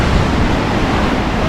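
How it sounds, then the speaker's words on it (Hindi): Waterfalls and a river in Munnar during the monsoon roar in a loud, dense, continuous rush, close and strong, with no voices. "यहाँ एक वाटरफॉल ये इधर से आ रहा है"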